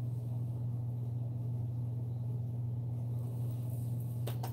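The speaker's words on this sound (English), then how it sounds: "So the fan was going on. So I really apologize that. It's like an attic fan." Attic-style fan running in a hallway, a steady low humming drone with constant rumble throughout, moderately quiet and alone, with a faint clatter near the end.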